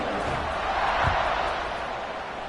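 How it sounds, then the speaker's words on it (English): A packed football stadium crowd buzzes steadily after an early score, a broad continuous roar at an even level with a brief thump partway through. "this crowd is buzzing after that last score"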